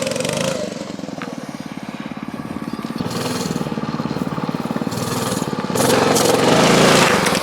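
A homemade DIY minibike engine buzzes loudly and steadily throughout, with a rough pulsing idle that swells into a harder rev near the end.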